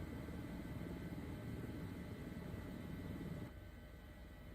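Simulated helicopter in Microsoft Flight Simulator, a steady rotor and turbine drone that holds evenly and then drops in level near the end, with no voices.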